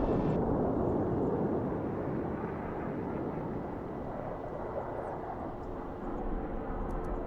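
A strike plane in Broken Arrow flying over the target area, a heavy continuous jet roar that holds steady and loud for the whole stretch, with no talk.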